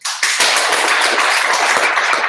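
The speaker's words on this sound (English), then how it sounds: "How about one more round of applause for Mr." Applause from a conference audience at EmberConf: a dense, steady wash of many hands clapping that starts abruptly and holds at full, even strength for about two seconds, with no voices.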